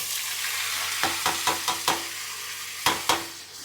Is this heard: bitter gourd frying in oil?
yes